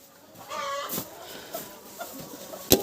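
Backyard poultry clucking nearby in a farm setting, a few scattered short calls and cackles over quiet ambience, with one sharp burst near the end.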